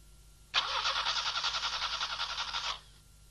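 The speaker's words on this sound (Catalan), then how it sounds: "en arrencar, el motor d'arrencada fa girar el motor fins que una barreja de combustible i aire és aspirada dins d'un cilindre" A petrol engine cranks over on its starter motor in a rapid, rhythmic churning burst that runs for about two seconds, then cuts off abruptly into quiet.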